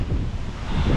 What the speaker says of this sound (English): That wind is a hoofing, I'll tell you.